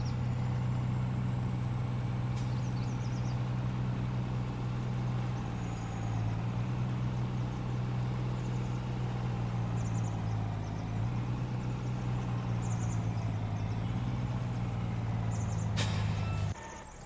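A truck engine in the farming video game Farming Simulator 19 runs at a steady, loud low drone, idling continuously with a faint beep near the end before it cuts off.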